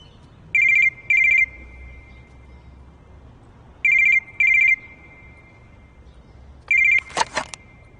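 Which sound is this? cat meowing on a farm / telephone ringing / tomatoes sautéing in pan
telephone ringing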